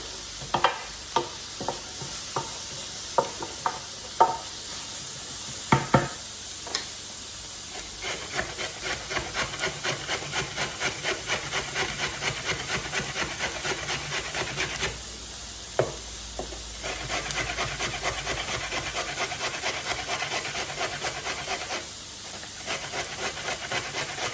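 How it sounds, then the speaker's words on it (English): A carrot is rubbed over the large holes of a hand grater in quick, even back-and-forth strokes that continue for a long stretch, with scattered knocks early on and onions sizzling faintly in a pan nearby, close and with no voices. "using the large part of the grater, just going to grate my carrot"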